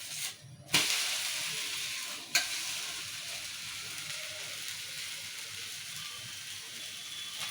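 Wheat flour dosa fries in oil on a pan with a steady close sizzle. Two sharp bursts of spattering come early, then the hiss settles to an even crackle.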